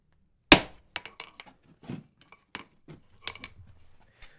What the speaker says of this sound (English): Christopher, sledgehammer. Now this you can hit pretty hard.